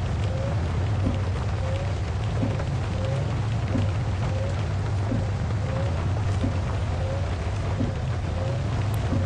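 Heavy rain pours steadily in the Minibus Simulator Vietnam driving game, a dense continuous hiss with a low rumble underneath and faint, evenly spaced ticks running through it.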